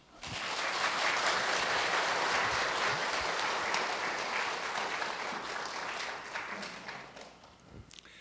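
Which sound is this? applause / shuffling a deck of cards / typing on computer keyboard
applause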